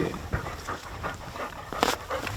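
Hunting dogs pant rapidly and steadily at close range during a bird-dog grouse hunt in Swedish Lapland, with brief whimpers and restless movement mixed in.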